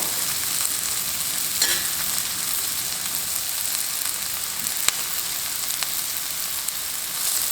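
Raw onions for corned beef hash sauté in a pan over slightly less than medium heat, a steady close sizzle and crackle with occasional light stirring clicks and no talking.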